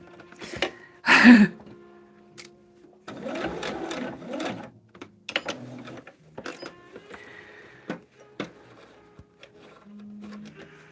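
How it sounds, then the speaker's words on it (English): A home sewing machine piecing a Circle the Geese medallion quilt block clatters close by in short runs and clicks, with one loud burst near the start and quieter mechanical taps and whirs trailing off. "I don't think my needle will move up and down if I have the presser foot up"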